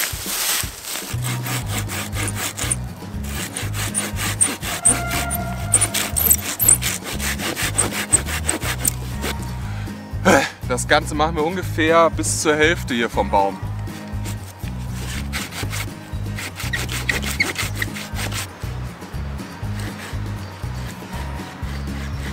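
Steady back-and-forth rasping of a hand saw biting through a tree trunk to fell the tree, loud and close, with someone speaking over the strokes.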